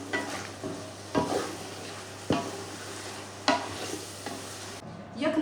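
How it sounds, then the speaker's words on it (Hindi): Chicken pieces frying in a pan with an even sizzle, broken by a few loud scraping stirs roughly every second or two and a clatter near the end; no one speaks. "चिकन को हम हल्का सा फ्राई करेंगे ताकि वो ब्राउन हो जाए"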